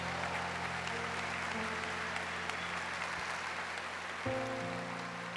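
A church congregation claps loudly and steadily, a dense continuous wash of applause with sustained tones from an organ or keyboard underneath.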